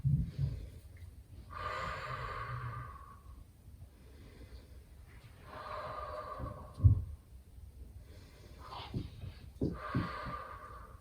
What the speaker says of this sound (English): Still trying to slow down that breathing.